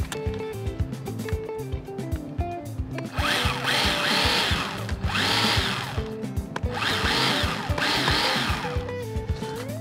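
A Litheli 40v battery-powered pole saw motor spins up in repeated bursts, whining loudly as it bites into wood in three or four cuts, with quieter idle gaps between.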